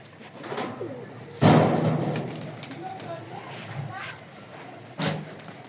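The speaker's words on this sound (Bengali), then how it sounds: "কবুতরটা লাস্টে সঙ্গে এসে ছাদে নামলো।" A pigeon coos on a house rooftop in a few soft, low calls, with people talking nearby and louder bursts of sound at two points.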